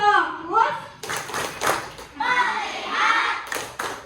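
A class of schoolchildren claps in a rhythmic focus chant, bursts of clapping mixed with children's voices chanting, following a woman's spoken cue.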